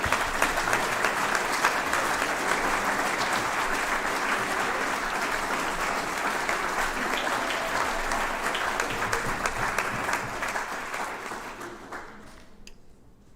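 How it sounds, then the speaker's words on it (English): A large audience applauds the sponsors at a college student awards ceremony, a sustained, dense wash of clapping that holds steady for about eleven seconds before quickly dying away. "And I think a huge round of applause for those sponsors"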